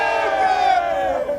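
A crowd at the final day of the European qualifiers of the SSL Gold Cup 2026 cheers and shouts together on a countdown, a loud, sustained roar of many voices lasting throughout.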